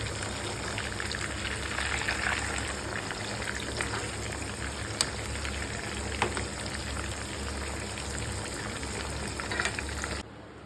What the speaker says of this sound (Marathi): आता वाव फिश पण आपण पलटी मारून घेऊया